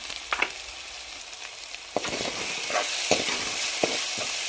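Drumstick flower curry seasoned with salt and turmeric crackles and sizzles in a pan, with a few sharp scraping stirs of the spatula over a continuous frying hiss.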